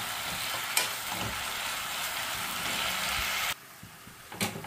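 Bottle gourd halwa stirred in a hot pan after fried cashews and raisins go in: a steady, close sizzle with spoon scrapes, which drops away sharply near the end before one last stroke.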